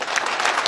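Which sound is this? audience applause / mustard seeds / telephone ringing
audience applause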